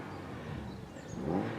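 A car engine revs at close range while a man works on the car behind a roadside spot in a rural village, the rising whir swelling and easing over a couple of seconds against outdoor background noise.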